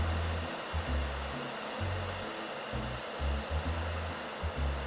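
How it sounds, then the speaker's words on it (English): A hair dryer blows with a steady whooshing roar at the nose bridge of plastic eyeglass frames, its low hum pulsing slightly as it is moved around up close. "We're going to point the blow dryer at the nose bridge for approximately 10 seconds."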